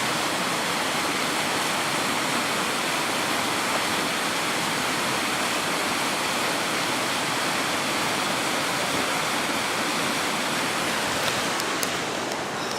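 River running high and fast below the ruins of Denbigh Dam after heavy rain, a steady, loud broadband rush of water that stays constant throughout with no voices.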